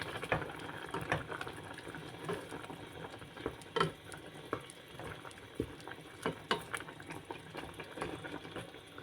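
Beef pares with oyster sauce being stirred in a pot, a soft bubbling simmer with scattered spoon scrapes and clinks close by, steady and fairly quiet with no talking.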